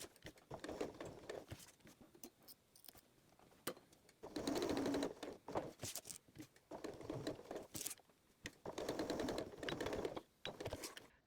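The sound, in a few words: sewing machine stitching a KitchenAid cord keeper tab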